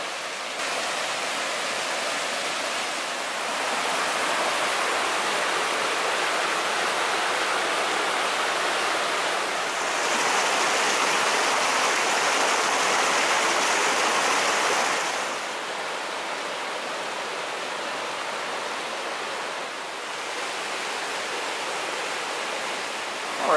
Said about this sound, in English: I hope you can hear me over the roar of the creek. It's really full and lovely.